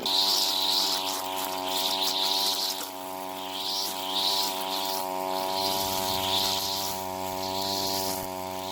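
A John Deere string trimmer with a newly changed trimmer head cuts grass, giving a steady, close, buzzing motor whine with recurring bursts of swishing as the line hits vegetation.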